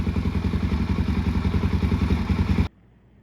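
A Suzuki DRZ400S dual-sport motorcycle with an FMF Power Core exhaust and spark arrestor idles loud and close with a steady, throbbing barking thump, then cuts off abruptly near the end.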